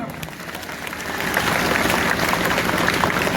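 Applause from a large crowd at an outdoor student protest rally in Suratgarh, Rajasthan, starting as a light patter and swelling into loud, sustained clapping that fills the rest of the moment, with some crowd noise beneath.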